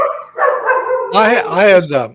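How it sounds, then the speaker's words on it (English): A dog barks and yips sharply a few times, close and loud, with brief whimpering tones, during a casual online coffee-break chat where people talk around it. "gotta mute the dog here"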